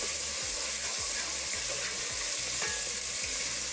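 Onions and fennel sautéing in a hot pan, giving a dense continuous sizzle with a regular stirring scrape repeating about twice a second, loud and close.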